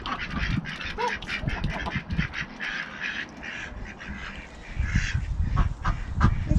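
A flock of excited ducks quacking and honking loudly at feeding time during a farm shop delivery in Ponthir, a dense overlapping chorus of calls with constant rustling and movement close by.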